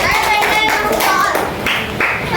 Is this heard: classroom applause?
yes